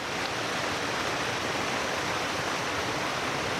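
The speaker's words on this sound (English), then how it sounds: "Here is another little waterfall." A small waterfall on the Blue Ridge Parkway gives a steady, close, dense rush of falling water, unbroken and heard alone.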